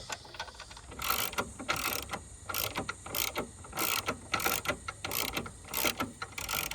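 A 10mm ratchet loosens a battery bolt on a Fiat 500, its pawl clicking in quick, repeated bursts of crisp ratcheting that are loud, close and stop and start in rhythm.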